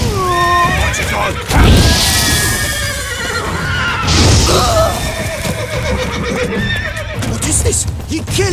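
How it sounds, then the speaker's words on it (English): Horses neigh and whinny repeatedly over steady clip-clopping hooves in a Witcher 3 game scene, the loud whinnies rising and falling several times close up, with faint voices mixed in. "We grab Roderick's horses and we bolt."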